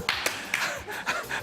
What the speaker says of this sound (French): On applaudit très très fort Michal.